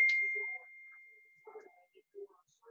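A single bright phone notification ding rings out at the start and fades over about half a second, followed by quiet faint clicks and small handling noises.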